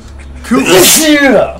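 One loud, close sneeze bursts out with a sharp voiced crescendo during a video game session, and a person's speech is heard around it.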